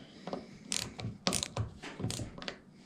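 A ratchet tightens the 12 mm drain plug on a Kubota BX mower deck, with a string of close, quick clicking bursts in an uneven rhythm and no talk.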